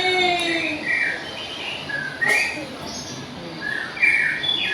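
A cartoon bird chirps and tweets in short whistled bursts through an animated Hindi story, the calls loud and near over a faint background.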